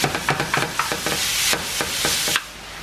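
Ground beef, a pound of it, sizzles and crackles in a hot frying pan while being stirred, with repeated scraping strokes in an uneven rhythm before the sizzle settles quieter.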